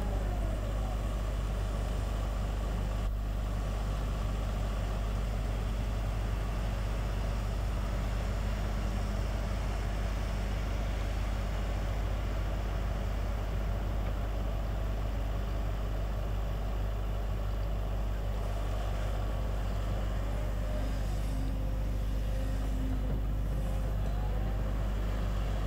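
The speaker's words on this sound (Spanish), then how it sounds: "Es un ir y venir constante de camiones." Heavy trucks coming and going at a large stadium construction site in Madrid, with excavators loading them, make a steady low engine rumble and idling drone that continues throughout, with faint passing vehicle noise.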